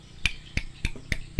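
Five sharp metallic clicks from a worn steering stem bearing on a Honda Supra 125 motorcycle sound at a steady pace, close and distinct, with quiet in between.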